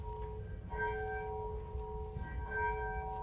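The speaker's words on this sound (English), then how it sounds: "the bell says it's time to start." A church bell rings out to begin a Christmas Eve worship service, its steady, resonant tone struck a few times and sustained between strikes over a low background rumble.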